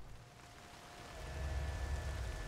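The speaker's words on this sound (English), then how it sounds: "Oh good, I love raining effects." Steady rain effect from the video game Nioh, a soft broadband hiss of falling rain that thickens and grows a little louder halfway through, with a low rumble underneath and no talking.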